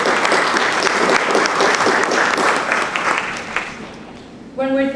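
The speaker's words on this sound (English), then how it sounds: "Another round of applause for Debara" Audience applause at a panel event on James Baldwin's writing, sustained clapping that gradually thins out before a voice begins speaking at the end.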